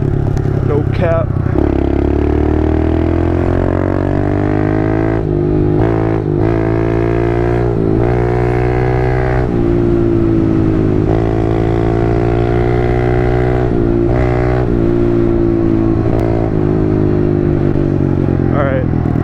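A pit bike's small engine buzzes loudly and steadily while riding through corners in the Hollywood Hills on Mulholland Drive, pitch rising and dipping with throttle, with a voice talking over it.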